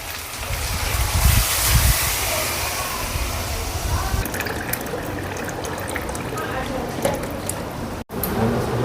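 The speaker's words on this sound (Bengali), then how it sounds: "জল ঢেলে দিচ্ছি।" Water poured into a pot of cooking mutton, a steady splashing and trickling pour that runs loud at first and then continues under a low background hum.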